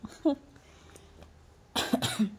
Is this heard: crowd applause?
no